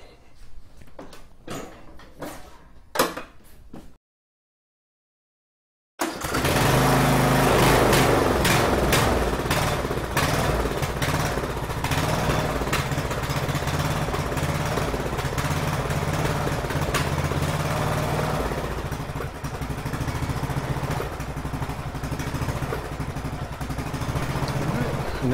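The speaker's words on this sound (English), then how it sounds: "Initially, she fires up, still surging a little." A Briggs & Stratton engine on an Ariens lawn mower, just fitted with a replacement carburetor, starts up after a few short clunks and a brief silence, then runs loud and close with a rough, slightly surging drone.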